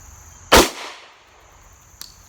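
A single sharp, loud report from a Sig Sauer P226 Elite .40 caliber pistol fired one-handed at a range target. A brief echoing decay follows, then a faint click.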